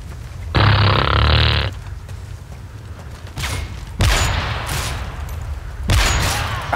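Gunfire from a first-person shooter video game after zooming a scope: a loud broadband blast followed by several sharper cracks and booming shots spread over a few seconds, with low rumbling between them.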